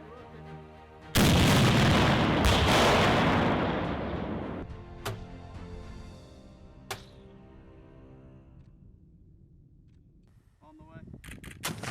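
An AT4 anti-tank rocket launcher fires with a sudden loud blast and a roaring rush that fades over several seconds, followed by two sharp distant impacts and faint trailing noise.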